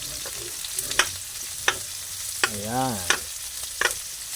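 Garlic, onion and ginger frying and being stirred in a pan, with a steady close sizzle broken by sharp scraping clicks of the utensil and a brief sliding tonal scrape midway, while a voice speaks briefly.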